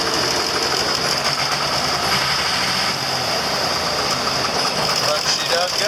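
An old Oliver tractor engine runs steadily at idle with a rough, knocking throb, loud and close, while someone talks over it.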